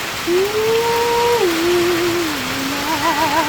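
A constant rushing hiss of heavy rain fills the background while a wavering, whistle-like tone glides up and down over it.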